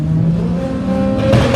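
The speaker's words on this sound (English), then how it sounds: "Rear-wheel drive, Mark 1 Golf versus four-wheel drive, VW Lupo. 20-valve turbo versus the Quattro 5-cylinder engine." Mark 1 Golf with a 20-valve turbo engine and a VW Lupo with a Quattro five-cylinder engine in a heads-up drag race at the GTI Festival, engines roaring loud and steady with a sharper rev surge near the end.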